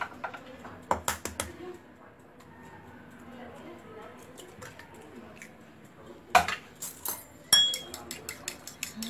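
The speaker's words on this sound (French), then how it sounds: "On va les battre un peu en omelette." Eggs are beaten in a bowl with a utensil for a semolina cake with raisins: bursts of quick clinking taps against the bowl, near and bright, separated by quieter pauses with faint background sound.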